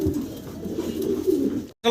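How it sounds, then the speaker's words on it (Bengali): Sky-blue Golla pigeons coo in a low, steady murmur close by for nearly two seconds before the sound briefly cuts out. "এটা হলো অরিজিনাল গোল্লা কবুতর কিন্তু কালারটা খুব সুন্দর"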